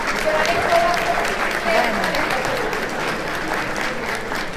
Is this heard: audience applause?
yes